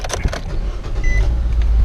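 A Nissan Versa from the 2012–2018 range is started up close, with clicks and a short cranking whir settling into a steady low engine rumble.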